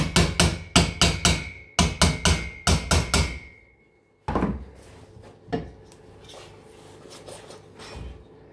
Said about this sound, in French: un coup de marteau sur ses soupapes